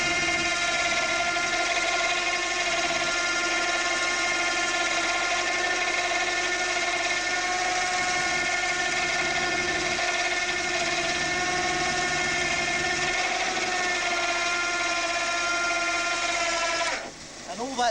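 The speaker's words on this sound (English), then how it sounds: "we can winch up from a standing start at that angle" A vehicle-mounted winch hauls from a standing start up a steep angle while the engine stays at idle revs. A steady, loud whining drone with layered tones runs for about seventeen seconds, then stops abruptly near the end.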